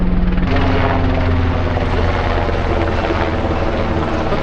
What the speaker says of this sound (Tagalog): Yung parang military helicopter.